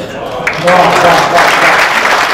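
Audience applause at a Rajasthani Hindi comedy poetry gathering, a burst of clapping rising after a short lead-in and holding loud and close to the end.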